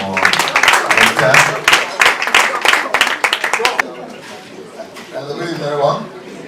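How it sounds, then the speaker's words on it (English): Audience clapping at a corporate farewell dinner, a dense burst of applause for about four seconds that then thins out into scattered claps and murmuring crowd chatter. "Please a round of applause for Victor."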